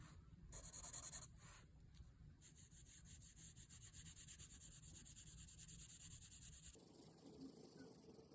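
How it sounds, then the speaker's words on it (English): Soft graphite 2B pencil shading on paper, a steady rhythmic scratching of repeated back-and-forth strokes, close and quiet, with brief pauses before stopping. "I'll use my 2B pencil"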